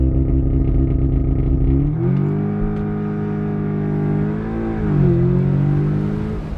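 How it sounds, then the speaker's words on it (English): A 2020 Audi S3 8V with a 310 PS engine and S-tronic gearbox accelerates hard from a launch control start. The loud, rising engine drone drops at two quick gear shifts, with no talking. "Let's try launch control."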